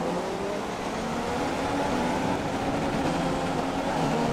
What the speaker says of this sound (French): Il y a juste un petit bug de son avec le moteur